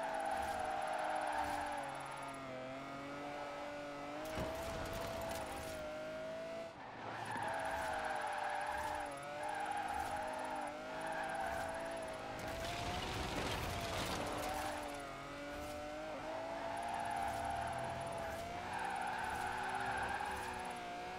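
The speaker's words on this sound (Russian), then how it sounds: "Жгем резину. Вот дрифт." A car drifting in Forza Horizon 4, its engine droning loudly while the tires screech in long sustained squeals, with repeated surges and brief gaps as the slides break and resume.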